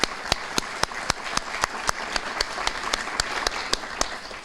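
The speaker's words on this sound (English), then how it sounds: "I think we should give Tanisha a round of applause" At a high school community breakfast, an audience applauds a student speaker. Continuous clapping is punctuated by one loud, regular nearby clap roughly every quarter second.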